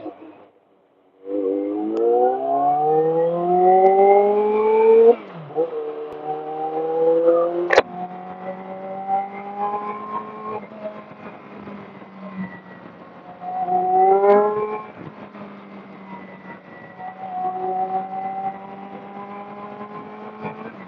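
A motorcycle engine with a strong harmonic whine that rises, drops sharply, then hums lower and surges again, falling pitch marking deceleration, with a voice speaking.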